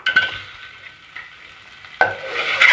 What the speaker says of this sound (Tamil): முட்டைக்குள்ளே மசாலா படுற மாதிரி ஃப்ரை பண்ணிக்கோங்க.